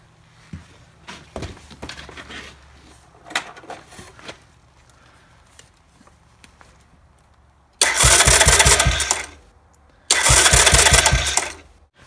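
Chinese ATV engine cranked by its starter with the cover off, two loud bursts of fast rhythmic whirring chugs of a couple of seconds each, after some quieter clicks and handling knocks.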